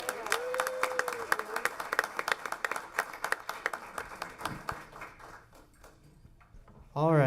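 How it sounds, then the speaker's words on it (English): An audience at a school board meeting applauds the school chess club members with steady clapping that fades over several seconds, and a few voices are heard amid it. "let's give them a round of applause."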